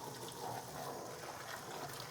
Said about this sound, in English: I'm going to go ahead and rinse it out now.